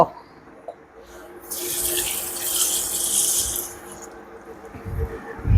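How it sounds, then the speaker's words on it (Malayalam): About eight pieces of firm tamarind are washed in water, with a running, splashing rush of water in a kitchen sink for a couple of seconds, bracketed by quieter handling noises. "ഞാൻ ഇത്തിരി വെള്ളത്തിൽ ഇട്ടിട്ട് നമുക്ക് കഴുകിയെടുക്കാം"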